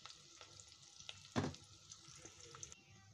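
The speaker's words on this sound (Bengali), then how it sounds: "আমি এখানে কিছুটা পেঁয়াজ দিয়েছি এবং এটা কিছুটা ভেজে নিচ্ছি।" Onions fry in a pan, a soft steady sizzle under louder scraping as a utensil stirs them, with one sharp clatter partway through.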